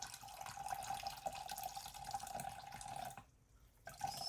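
Fresh grated coconut squeezed by hand to press out its milk, giving a soft, steady trickle and drip of liquid with faint wet squelches and a brief pause near the end.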